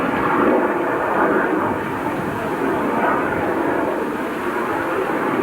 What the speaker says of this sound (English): that's an aeroplane. Damn low, isn't it? Coming into Humberside Airport